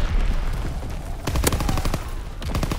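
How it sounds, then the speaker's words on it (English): Naval guns of a ship's primary battery boom in a video game, a cluster of heavy shots around the middle followed by more reports near the end, over a constant background rumble. "Firing primary battery."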